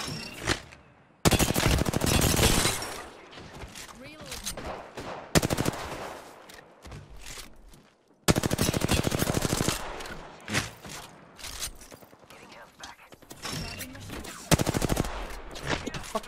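Video game gunfire aimed at the player: several loud bursts of rapid automatic shots, each lasting a second or two and separated by quieter gaps, with no voices.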